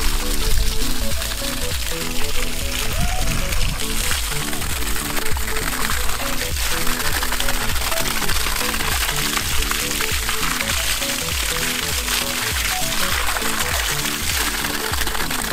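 Water gushes continuously from a pressured, non-electric auto water pump drawing from a deep river, a loud, close, splashing flow with a rhythmic pulsing throb underneath and no voices.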